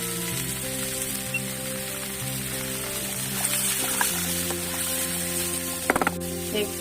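Cut potatoes fry in a pan with a steady, rain-like sizzle under a low background hum, followed by a few sharp clinks near the end.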